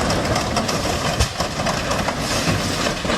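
A train rumbles and clatters loudly and continuously at close range, a dense mechanical roar with faint rhythmic knocks as it slows toward a stop.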